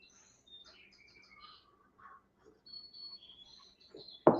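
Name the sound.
bird clock playing bird song at the hour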